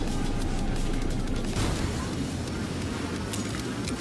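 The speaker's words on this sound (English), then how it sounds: "Fire missiles at them." Missiles firing in the mecha video game Dolls Nest, a dense continuous barrage of booming launches and explosions that stays loud and rumbling throughout, with sharper bursts layered over a heavy low roar.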